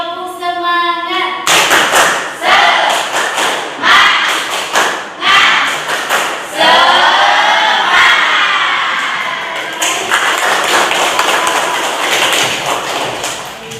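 A class of seventh-grade students performs a rhythmic clapping chant, a teacher's call answered by loud bursts of patterned claps and shouted group voices, repeating in sharp phrases before a longer cheering swell.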